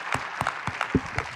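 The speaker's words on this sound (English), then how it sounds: "Let's meet Shokhrukh Alimov with grand applause." A small audience claps for a speaker at a writing-tips class, with several sharp, separate hand claps in a short, sparse burst and no voices.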